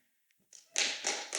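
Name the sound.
audience clapping hands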